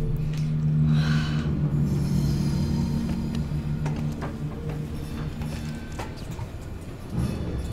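A train in the Alien: Isolation video game runs along the tracks with a steady heavy rumble, a droning metallic hum and scattered clanks, continuous and loud throughout.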